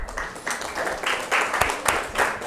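Moderate applause from an audience at a talk on natural building and heritage building, uneven claps rising and falling in loose bursts, fairly close.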